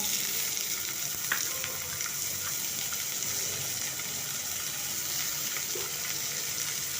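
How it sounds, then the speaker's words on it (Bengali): Panch phoron spices sizzling in about a teaspoon of hot oil, a continuous close frying hiss with light crackles and a couple of small pops, no talking. "আর এদিকে আমি সামান্য তেল দিচ্ছি চায়ের চামচের এক চামচ আর দিয়ে দিচ্ছি হাফ চামচ পাঁচ ফোড়ন"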